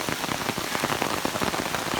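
Heavy summer rain pours onto an overgrown backpacking trail in a dense, steady hiss of countless close drops, loud and continuous with no voices.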